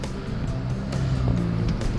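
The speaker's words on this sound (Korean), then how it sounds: "지금 들리시죠? 배기음." Exhaust note of a 2016 Kia Morning Turbo driving on a wet road in the rain, a steady low engine drone with tire and road noise running throughout.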